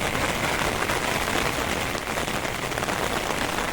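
Rain pattering steadily on an open umbrella beside a tidal creek in Kumbhavade village, Konkan, during the first rain of the season; a dense, continuous hiss of close drops with no voices.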